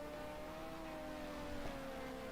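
Race car engines in Project Cars 2 during an LMP2 league race at Mugello, a steady droning whine with rising pitch lines, moderately loud and continuous with no talking.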